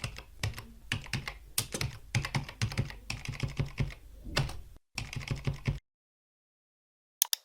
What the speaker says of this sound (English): See how the HTML and Markdown panels update as I type.